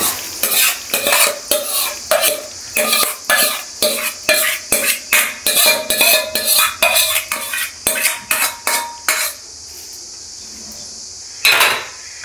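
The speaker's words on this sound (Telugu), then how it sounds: "ఇదంతా మిక్స్ చేసుకోవాలి" A spoon scrapes and clatters against a pot in a steady rhythm, mixing a fried mango-and-spice mixture into rice for pulihora, close and loud, then a brief hiss and one last clank.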